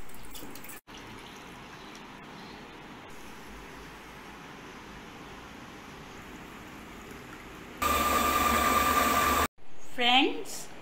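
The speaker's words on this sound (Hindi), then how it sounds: "मीठी लस्सी बनाने के लिए तमाम इंग्रेडिएंट्स मैं जग में डाल दूंगी ताकि हम इन्हें ब्लेंड कर सकें" A blender whirs steadily as it mixes sweet lassi ingredients such as milk and water in a jug, then rises to a louder, higher-pitched whine near the end before cutting out briefly and restarting.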